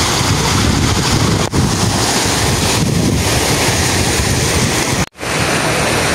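Sea waves wash continuously at San Juan Beach in La Union, a loud broadband surf roar heavily buffeted by wind against the microphone, with a brief dropout near the end and no voices.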